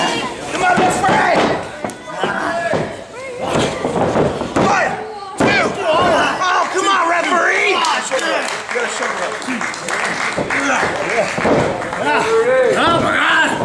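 A crowd at a Grindhouse Pro Wrestling match cheers and shouts continuously, loud and close, with thuds and slams from the ring and people talking over the noise.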